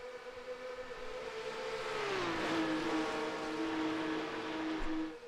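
Porsche race car engine at full throttle on the Monza circuit during a Porsche Cup race, a loud sustained howl whose pitch slides down and then holds steady as the car passes, with no talk over it.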